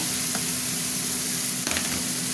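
Ginger-garlic paste, chili, turmeric and cumin powders sizzle steadily in hot oil for a vegetable curry, a close, continuous frying hiss with a brief stir or scrape partway through.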